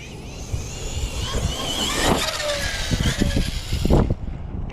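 A stock-motor Arrma 4S RC car runs on its maiden outing, its whining motor and rattling drivetrain rising and falling in short bursts, with a few louder thumps near the end, close to the microphone.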